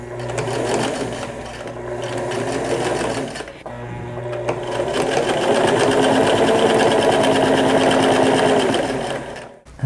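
A sewing machine stitches pant legs together in a fast, steady mechanical whir with a short pause partway through, then runs on loud and close until it stops right at the end.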